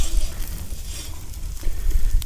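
Steak sizzling in a pan over a wood campfire burning cottonwood or ash, a steady close crackling hiss with low fire rumble underneath and no talk.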